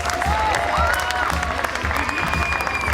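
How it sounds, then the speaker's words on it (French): A lively crowd at a French stage show applauds and cheers a performer being introduced: dense, continuous clapping mixed with whistles, shouts and loud crowd noise. "on applaudit bien fort, s'il vous plaît"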